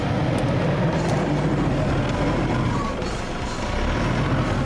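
A Mitsubishi Pajero engine drones low and steady as the vehicle climbs a slippery off-road obstacle at a 4x4 challenge, the rumble continuous and fairly close, with a brief dip in level near the end.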